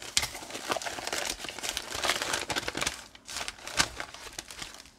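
Taped wrapping paper crinkles and rips in short bursts as a gift is pulled open nearby, with brief tearing sounds and no talking.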